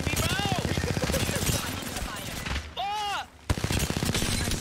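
Rapid gunfire bursts from a first-person battle royale shooter rattle almost continuously with in-game effects and voices layered over them, briefly dropping out near the end before resuming.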